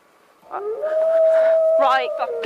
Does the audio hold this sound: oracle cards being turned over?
no